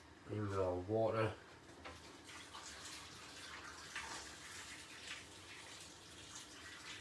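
A voice speaks briefly at the start, then water pours into a pot of slow-cooked beef stew, a soft, steady trickling and splashing that continues quietly to the end.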